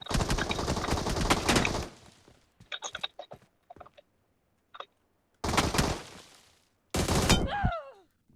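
Gunfire in PUBG Mobile: loud rapid bursts at the start, scattered single shots and short volleys through the middle, then two more heavy bursts, one trailing off with a descending whistling tail.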